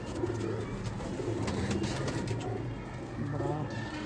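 Pigeons on a rooftop off Sultanwind Road coo in low, repeated throaty phrases, close and fairly loud, with a steady background hum throughout.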